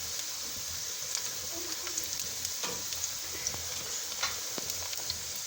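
Garlic and onion frying in oil until browned, a continuous close sizzle with scattered sharp crackles and light stirring clicks, no voices.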